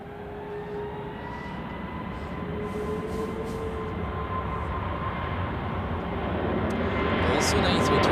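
Pegasus Airlines Airbus A321neo at Zurich Airport in winter, a jet roar that builds steadily louder as the aircraft nears, with thin steady engine tones over broadband rumble.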